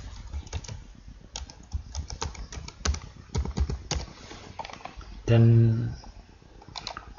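Close computer keyboard typing with irregular clicks and key taps under a man's speech, broken by a brief louder burst of sound near the end.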